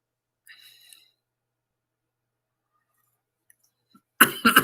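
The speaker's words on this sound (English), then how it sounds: "My cough gets worse at night as the atmosphere changes." A person with a cough lets out a short burst of loud coughing at the very end, after a long near-silent pause broken only by a faint brief sound and a tiny click.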